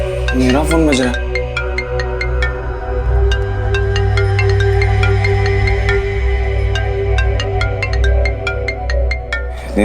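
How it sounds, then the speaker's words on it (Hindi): A mobile phone rings with a repeating electronic ringtone melody, loud and steady through most of the span, over a low sustained hum. "मेरा फोन बज रहा है।"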